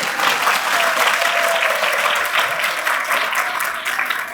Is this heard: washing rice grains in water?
no